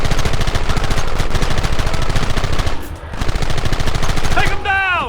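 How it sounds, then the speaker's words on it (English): Rapid bursts of gunfire from a Red Dead Redemption battle against the United States Army, dense and loud throughout, with shouted voices mixed in and a brief lull near the middle before shooting resumes. "Fire at will!"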